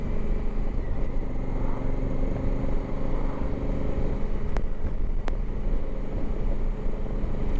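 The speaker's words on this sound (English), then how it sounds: "This bike is so much easier to ride than my old bike." Honda Africa Twin Adventure Sports motorcycle ridden on a cold winter day, a steady loud engine drone with heavy wind rush throughout, unbroken and close, with no talking.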